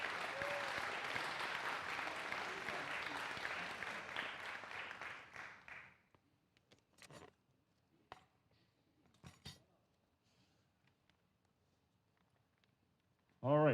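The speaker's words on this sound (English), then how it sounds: "Let's give a huge round of applause" An audience at a high school spring band concert claps steadily for several seconds, then the applause fades out, leaving near-silence broken by a few scattered claps and small clinks.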